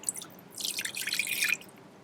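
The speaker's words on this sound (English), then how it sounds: "I'm going to pour my tea in" Tea is poured into a pan for making ink, giving a short, close burst of splashing liquid after a brief drip, then quiet.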